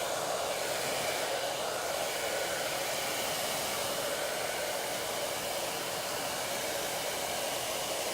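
A salon hair dryer blows in a steady, loud, continuous rush of air from start to finish, with no pauses or voices.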